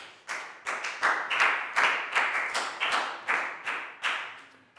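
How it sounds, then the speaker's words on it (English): A room full of people clapping steadily for several seconds, a warm sustained round of applause with no voices over it. "High five and a big round of applause for Pat, guys."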